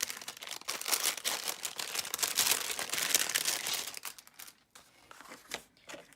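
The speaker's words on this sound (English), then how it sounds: "So let's open the pocket cards." Packaging of pocket cards being opened, close crinkling and tearing of plastic wrap in a busy burst that thins toward the end, with no talking.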